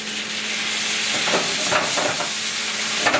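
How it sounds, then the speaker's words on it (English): Steady loud sizzling fills the clip, curry shrimp frying hard in a hot pan with occasional scraping stirs. "That sizzling sound."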